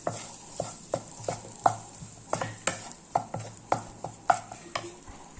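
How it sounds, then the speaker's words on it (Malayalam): Onions and tomatoes sauté in a pan for a Kerala cashew nut theeyal, with a spoon stirring in steady rhythmic scrapes and knocks over a soft constant sizzle, close and moderately loud with no talking. "ഈ തക്കാളിയും കൂടി ഇതിനകത്ത് ചേർക്കാം തക്കാളി ഇവിടെ നല്ലതുപോലെ ഒന്ന് വാടട്ടെ"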